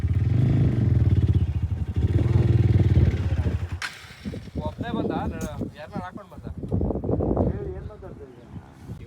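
Sports motorcycles, including a KTM Duke, ride off-road. A close engine drone holds for about four seconds, then a sharp knock cuts in and people talk over faint clatter.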